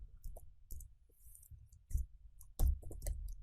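Typing on a computer keyboard while entering web code, heard as sparse close clicking keystrokes in short irregular clusters with no talking.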